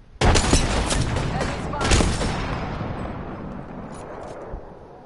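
A frag grenade goes off in a video game: a sudden loud blast followed by a second boom, with a long rumbling fade and faint gunfire crackle after it.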